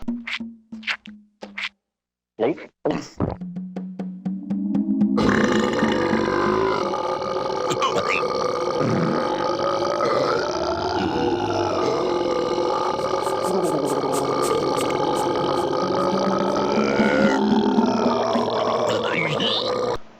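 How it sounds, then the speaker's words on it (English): A character in the 1996 PC game The Neverhood burps at length, a loud drawn-out croaking belch lasting about fifteen seconds after a few short choppy sounds. "your character burping for a long period of time don't help to make the gobble feel serious"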